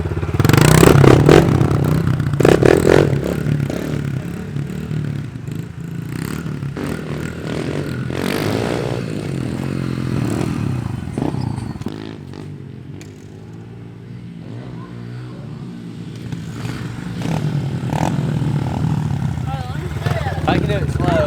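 Pit bike motorcycles revving and riding on a supercross track, engines droning and rising with scraping and clattering, loud throughout, with people talking over the noise.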